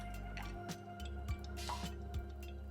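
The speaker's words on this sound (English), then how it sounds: "let's pour this juice." Vegetable juice poured into a glass holding cucumber slices and ice cubes, with soft trickling, faint drips and a few light ice clicks over a steady low hum, no talking.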